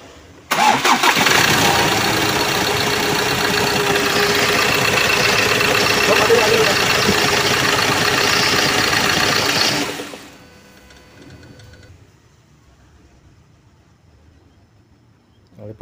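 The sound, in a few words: Ford Ranger T6 engine cranking and idling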